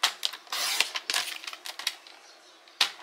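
Paper being cut for a scrapbook album, heard as close, crisp bursts of snipping and rustling, a few quick cuts followed by a pause and one final snip.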